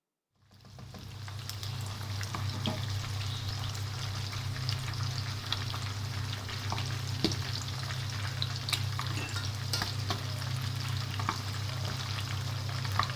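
Whole chicken chargha deep frying in hot oil while oil is spooned over it, a dense, even, close crackling sizzle that starts abruptly and holds steady with occasional pops.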